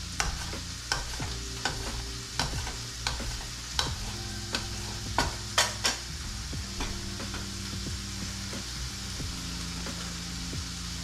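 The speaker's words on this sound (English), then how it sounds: "Got the bacon sizzling in the background." Bacon sizzles steadily in a frying pan in a home kitchen, a soft continuous crackle under sharp repeated clicks and scrapes from nearby kitchen work, with no voices.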